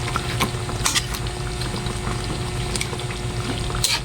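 A pot of coconut milk stew with pechay boils steadily, with a continuous bubbling and simmering hiss, close and fairly loud, with no talk.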